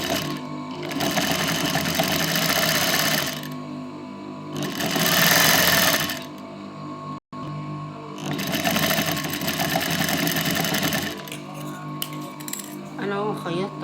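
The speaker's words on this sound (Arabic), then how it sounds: "انا هنا هبتدي اخيط" A sewing machine stitches fabric right along the edge to join pieces of an Indian gabardine outfit set. It runs close and loud in three long steady bursts separated by short pauses.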